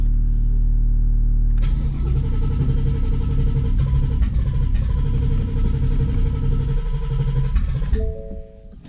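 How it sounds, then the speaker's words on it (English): A 850 whp Ford Mustang engine cranking over: a loud, steady starter whir with rhythmic compression pulses, close and sustained for several seconds, then cutting off into a brief tonal hum. "Crank it a couple times here."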